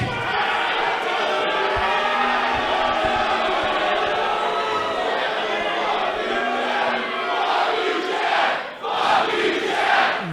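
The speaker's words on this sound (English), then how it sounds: "The crowd adorning Chad with some choice words" A packed professional wrestling arena crowd shouts and jeers at a wrestler in a dense, continuous roar that holds steady for about ten seconds, with a brief dip near the end before the noise surges back.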